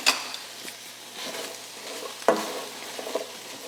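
Onions cook in avocado oil in a pan over very low heat, giving a soft, steady sizzle and crackle with a few sharper clinks and scrapes of stirring, near and alone.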